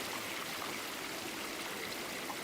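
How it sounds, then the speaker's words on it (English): Astral water flowing in the fantasy game Guild Wars 2, a steady close rush and trickle of a stream, constant and alone. "And we have astral water."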